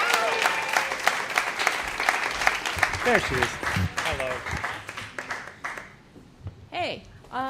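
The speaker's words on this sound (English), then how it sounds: "keep that applause going for Kelly" A comedy club audience applauds and cheers a performer taking the stage, the dense clapping fading after a few seconds while she speaks briefly into the microphone.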